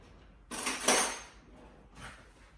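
A spoon scoops cheesecake batter into cups, giving a short clatter of metal scraping and tapping against a dish, then a softer second scrape, close and alone.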